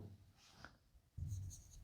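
A pen scratching out a maths solution on paper, faint and close, in a short burst of writing strokes with a low rumble near the end.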